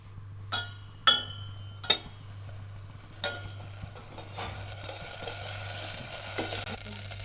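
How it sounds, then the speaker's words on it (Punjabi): Desi ghee sizzling in a pan for tempering, with a few sharp clinks of a spoon against metal early on, followed by a soft steady crackle. "ਆਪਾਂ ਇਹਨੂੰ ਤੜਕਾ ਇੱਕ ਚਮਚਾ ਪਾਵਾਂਗੇ ਦੇਸੀ ਘਿਓ ਦਾ"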